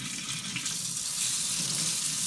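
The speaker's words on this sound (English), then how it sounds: "We're going to put water in the pan." Ice-cold water runs from a kitchen tap into a pan, a loud, steady splashing rush heard up close and alone.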